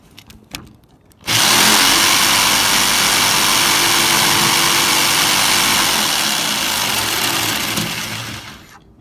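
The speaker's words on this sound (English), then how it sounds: "So I'm just using my jigsaw." A jigsaw cuts a subfloor board at a corner in a bus home build, its loud close motor and blade buzz starting abruptly after a few knocks and running steadily before winding down.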